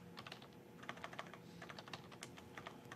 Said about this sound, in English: I'm going to stop typing.